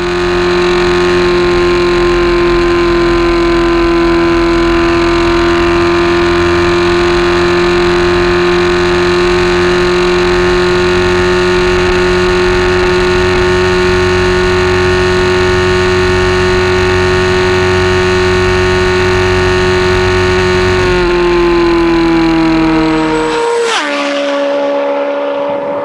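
A legendary superbike's engine revs loud and steady at high rpm for over twenty seconds, then drops sharply as the throttle closes, no voices over it.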